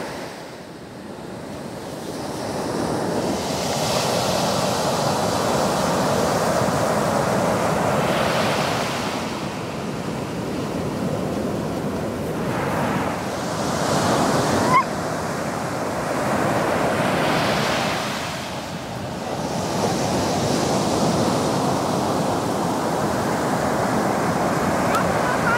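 Ocean waves breaking on a beach as the tide comes in, a continuous roar of surf that rises and falls in slow swells, mixed with wind buffeting the microphone.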